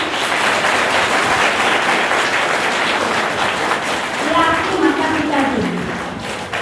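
A large crowd applauds with sustained, dense clapping at a school event, and a voice briefly rises over it near the end.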